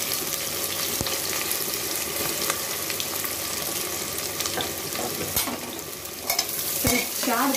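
Four large chopped onions sizzle in hot mustard oil, a loud, continuous crackling fry with occasional sharp spoon knocks against the pan and a brief watery gurgle toward the end.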